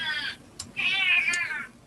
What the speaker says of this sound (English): there's a complaining cat somewhere in the background